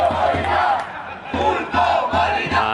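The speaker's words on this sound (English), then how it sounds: "Oh, save keeper. Biggest cheer of the day so far." A football crowd at a Tercera División match between Carabanchel and Pozuelo de Alarcón roars and chants after the goalkeeper makes a save. The rhythmic surges of voices come loud and sustained from the stands.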